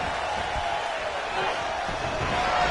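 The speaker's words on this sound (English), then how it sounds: "The crowd is behind Tegan," An arena crowd in the WWE 2K25 wrestling video game roars in a steady, dense wash of cheering, with a commentator's voice talking over it.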